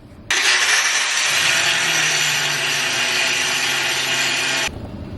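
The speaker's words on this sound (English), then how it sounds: "I'm going to take that 1/4 inch rock and I'm going to grind this section down" Grinder with a 1/4 inch disc grinding down a section of a 2G/3G SMAW repair weld: a loud, harsh, continuous close-up grinding roar that starts abruptly and cuts off after about four seconds.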